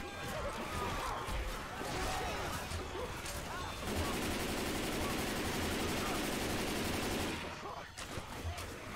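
Sustained gunfire from Left 4 Dead 2, a dense, loud stream of shots running nearly the whole stretch with a heavier burst in the middle, while players shout over it.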